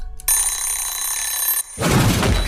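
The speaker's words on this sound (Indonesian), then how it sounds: "bunyi tuh wakernya" An alarm clock rings in a tense horror-film scene, a loud continuous metallic bell tone lasting over a second, then breaking off into a burst of harsh noisy clatter, with no speech.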